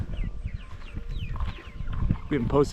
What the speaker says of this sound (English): Our chicks are getting big